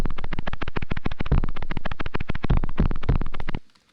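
A rapid, buzzing run of dense 808 bass drum hits with a distorted, gritty tone, played continuously for several seconds before cutting off into silence.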